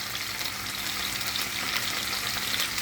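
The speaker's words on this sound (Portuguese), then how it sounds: "Coloquei os medalhões aqui na frigideira." Medallions frying in a hot pan give off a steady broadband sizzle with soft crackle, even and continuous throughout with no voices.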